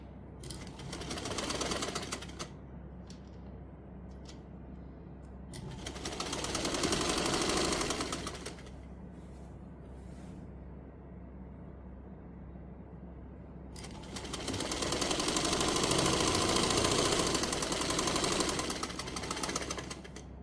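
An electric sewing machine stitching a half-inch seam on a frock, running in steady rapid bursts that rise and fall in loudness, with pauses of quieter motor hum between runs.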